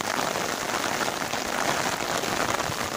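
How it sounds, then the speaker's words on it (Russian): Steady rain patters on a surface, a dense, even hiss of drops with no voices. "Какой дождик."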